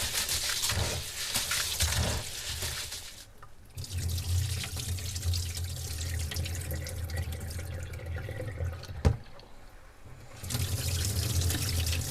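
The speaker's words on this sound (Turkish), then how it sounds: "Budayımı yıkadım. Aşurelik budayımı." Wheat for ashure is rinsed under a running kitchen tap, a steady hiss of flowing water that drops away briefly, returns, then pauses again with a faint knock before the stream resumes, close and alone.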